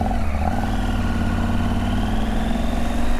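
A Husqvarna Norden 901 motorcycle engine runs steadily at idle, a close, continuous throbbing rumble at constant loudness with a slight rise in pitch.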